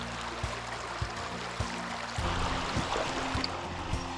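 A river flowing over a shallow bed at a watershed sampling site, a steady soft wash of water trickling close by, with faint low knocks and bumps now and then.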